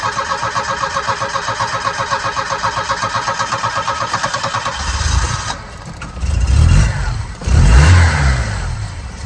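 A Vauxhall Cavalier mk2 on a new ignition system, with new HT leads, rotor arm and distributor cap, cranks with a rhythmic whirring starter for several seconds, then catches and runs with a louder rough rumble and a couple of revs.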